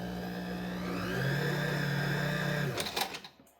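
A sewing machine stitches nursing pads in a fast, even whir lasting a few seconds, then slows and stops with a few soft clicks at the end.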